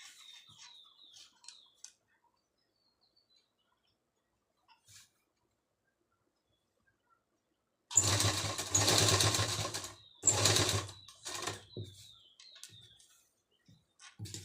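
A sewing machine stitches a zipper onto the back neck of a kameez in loud running bursts, with a long burst and a few shorter ones. Soft bird chirps sound faintly in the background, and no one talks.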